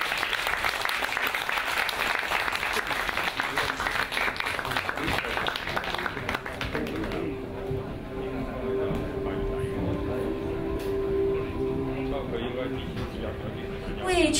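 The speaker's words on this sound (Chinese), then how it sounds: "我们用热烈的掌声欢送主礼嘉宾离场" Warm applause sees off the guests of honour at the opening ceremony of an event, a dense, sustained clapping from a large audience that fills the first half, then thins into a quieter hall.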